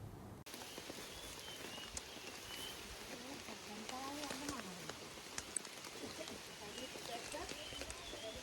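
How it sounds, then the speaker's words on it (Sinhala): Heavy rain pours onto the stone steps of the Adam's Peak pilgrimage trail on the Hatton route, a steady hissing downpour with scattered sharper splashes, and faint voices mixed in. "මෙතන නම් හයියෙන් වහින්න ගත්තා"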